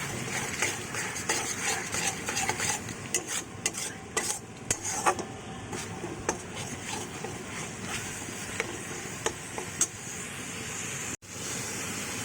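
Ginger paste being stirred into a dish in a home kitchen, with a continuous scraping and clinking of a spatula against the pan over a steady sizzle, near and fairly loud, ending in a brief pause.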